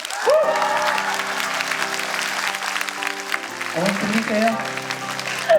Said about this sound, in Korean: 800명의 학생들이 환호와 박수를 어머니께 좀 보내드릴 건데요.